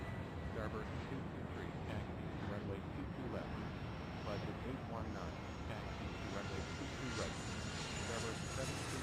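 Jet airliner engines roar steadily through takeoff in the airport-management game Airport Madness 3, a dense continuous rumble with other aircraft noise layered beneath a controller voice talking throughout.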